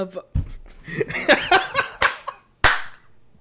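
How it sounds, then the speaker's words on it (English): A single hard, sharp hand clap cracks out loud and close after a stretch of laughter and chatter among a few people. "Don't ever clap that hard ever again"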